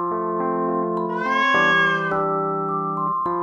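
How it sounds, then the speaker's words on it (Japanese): A cat meows in a Project Sekai mobile game event story: one drawn-out, tonal meow that rises and falls over a few seconds, loud and close, with no talking. "猫の声、さっきの猫かな。"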